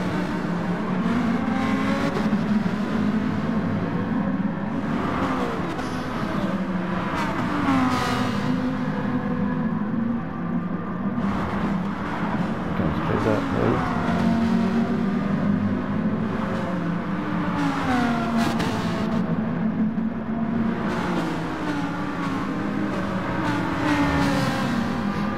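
Race cars circle a racing circuit, engines droning and revving continuously at close range as cars accelerate, shift and pass one another.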